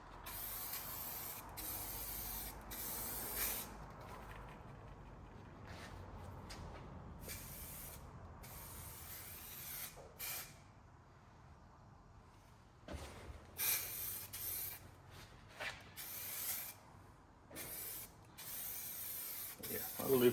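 Spray can or spray gun hissing in short bursts as a light first coat goes onto a part during a Ford Sierra 2.9 Cosworth V6 engine swap, several separate sprays with pauses between, close and fairly loud.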